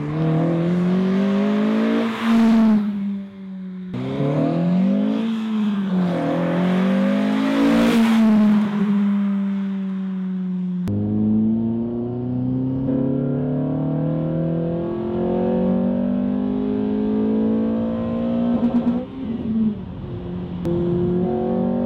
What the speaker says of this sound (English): hopefully you get some idea of what the exhaust sounds like on acceleration there.